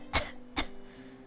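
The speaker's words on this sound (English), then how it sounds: "Her voice falls apart as she begins to cough." A woman's coughing sound effect from the visual novel game Cinderella Phenomenon: two short, harsh coughs about half a second apart, close and fairly soft.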